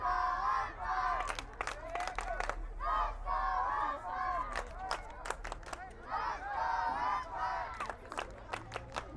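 A soccer crowd chants and cheers loudly and continuously at a UPSL Premier semifinal between NY Renegades and NY Empire FC, with rhythmic swells of massed voices and sharp shouts throughout.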